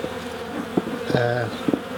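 Honey bees buzz around an open hive being worked with smoke, a close, wavering hum with individual bees zipping past the microphone, rising briefly into a louder pitched drone.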